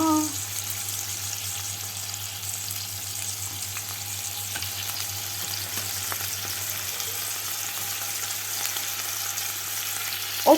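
Young lamb meat frying in a pan, a steady close sizzle with faint crackles running through the whole stretch, with no talking over it.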